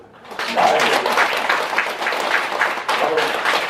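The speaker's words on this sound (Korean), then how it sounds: "박수 한번 더" A burst of applause from an audience at a Lotus Sutra lecture at a Buddhist temple, dense steady clapping that starts abruptly and carries on for a few seconds.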